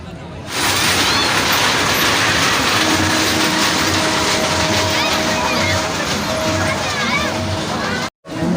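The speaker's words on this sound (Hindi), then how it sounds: "ऐसे ये जो बैक साइड में आपने मेरी ट्रेन देखी, ये है तो बहुत ही ज़्यादा सही है" A fairground ride train rolls steadily at a busy summer mela, its rumble and rattle continuous under lively crowd chatter and voices, with a brief dropout near the end.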